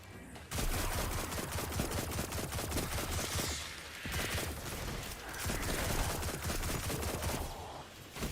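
Rapid gunfire from a first-person shooter video game, Destiny 2, crackles in dense bursts of shots, loud and nearly continuous with brief pauses, with no talking.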